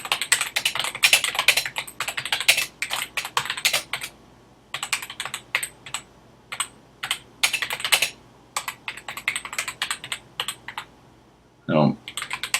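Rapid typing on a computer keyboard while writing HTML, dense bursts of crisp close keystrokes with short pauses between runs, and a brief voice sound near the end.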